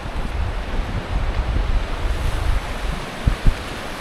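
The Kunar river in flood rushes past, a loud broad roar of churning water with gusting wind buffeting the microphone and a couple of low thumps near the end.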